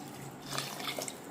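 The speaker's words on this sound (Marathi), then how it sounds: "4 कपासाठी इथे आपल्याला 8 कप पाणी घ्यायचं आहे." Water pours into a cooking pot for a paneer and vegetable dish, a soft trickling splash that picks up near the middle and continues quietly with small drips, with no voices.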